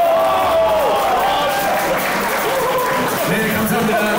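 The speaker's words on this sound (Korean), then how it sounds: "네, 여러분 큰 박수 부탁드립니다." Loud crowd applause and some cheering at an event with athletes posing for a photo, continuous clapping blended with voices talking over it throughout.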